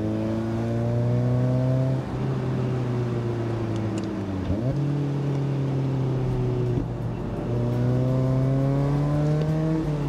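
A Mazda Miata is driven hard on the Tail of the Dragon mountain road. Its engine drones loud and close inside the cabin, rising in pitch, then dropping with each gear change as it accelerates through the bends.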